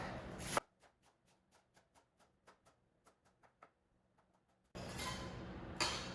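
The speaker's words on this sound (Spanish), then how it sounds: "A continuación vamos a picar el perejil" A knife chops rolled-up fresh parsley for a meat pie on a cutting board with a run of quiet, evenly spaced taps. Louder, steady noise follows the chopping.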